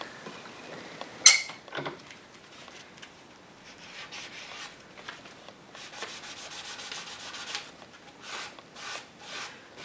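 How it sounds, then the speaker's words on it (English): Hand sanding the edges of a wooden edge-lit clock, soft rhythmic rubbing strokes close by after a sharp knock near the start, quiet and without talk. "we'll just give the edges a nice light sand now"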